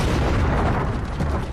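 Cannon fire from the largest cannon yet built, commissioned by Sultan Mehmed II for the 1453 siege of Constantinople, rolls out as a loud, dense, continuous booming roar.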